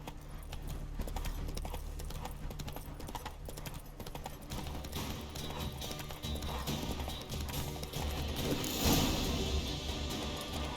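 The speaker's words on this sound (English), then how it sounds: "Whoa there, Roach." A horse's hooves clip-clop steadily throughout in The Witcher 3, moderately close and mixed with mechanical clicking and game ambience, with a brief louder burst near the end.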